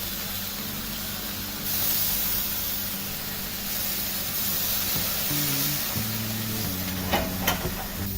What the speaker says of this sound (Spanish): Vamos a tirar un poquito de agua para que haga vapor y derrita la mousse